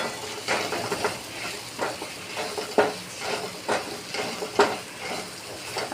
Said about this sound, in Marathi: आता हे छान फ्राय करून घ्यायचे आहे मसाले, थोडं परतू द्यायचं आहे।